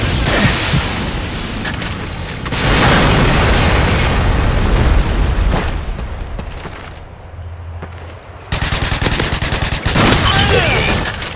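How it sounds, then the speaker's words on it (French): Call of Duty MW3 combat with loud, sustained booms and gunfire bursts, including a grenade explosion, and heavy blasts returning after a brief quieter stretch. "Grenade to the side."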